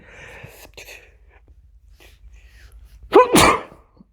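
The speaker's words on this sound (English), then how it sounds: "I'm going to sneeze, excuse me." A single loud sneeze bursts out near the end, preceded by a sharp intake of breath, after a stretch of quiet room sound.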